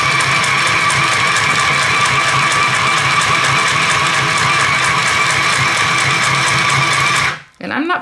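A Singer Stitch Sew Quick 2 sewing machine stitching fabric, with a loud, steady mechanical whir and rapid rhythmic needle clatter running continuously before stopping abruptly near the end.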